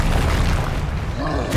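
A single deep, rumbling Confringo spell explosion from Hogwarts Legacy booms close and loud, its low roar filling the short moment before trailing off, with a voice heard under it.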